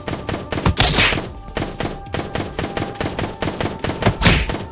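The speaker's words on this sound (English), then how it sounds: "Don't mind the distant gun sound." Distant gunfire in the VR game Animal Company, a dense run of repeated thudding shots and impacts, with louder bursts near the start and the end of the stretch, carrying on steadily without any talk over it.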